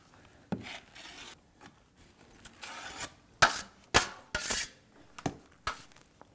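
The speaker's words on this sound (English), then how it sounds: "I'm going to come back down here and put more joint compound here" Drywall joint compound being scraped and spread into a wall corner with a trowel or knife, giving intermittent close raspy strokes and sharp scrapes, louder toward the end.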